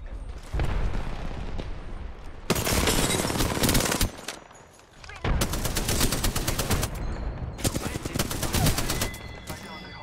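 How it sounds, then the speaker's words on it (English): Apex Legends gunfire, loud rapid automatic bursts in several long volleys separated by short lulls, with voices faintly under the shooting. "Hey, I'm being shot at."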